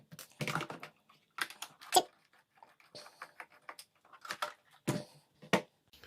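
Small body screws are taken out of a 1/14 scale 4WD RC Jeep, making a close series of short clicky, scratchy bursts separated by brief pauses.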